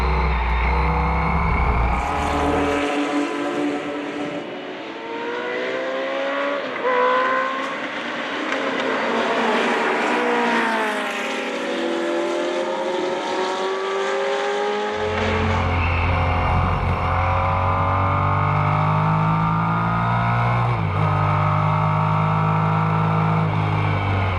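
A 1969 Porsche 917K race car, chassis 015, racing at Rennsport Reunion, its engine loud and close, climbing and dropping through gears with rising and falling revs, and a passing roar near the middle.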